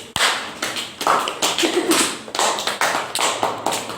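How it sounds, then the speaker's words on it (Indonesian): A classroom of students clapping hands together during a lesson, a short loud burst of scattered claps lasting a few seconds. "Tepuk tangan dulu."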